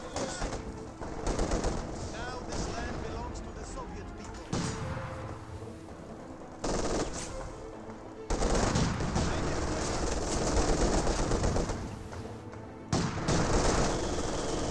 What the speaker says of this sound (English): we do have the MG42 suppressing the Penal squad